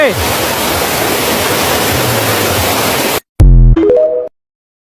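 Wang Kan Lueang waterfall in Lopburi roars as a steady broadband rush of falling water for about three seconds, close and loud, then cuts off abruptly before a brief burst of louder sound and a voice.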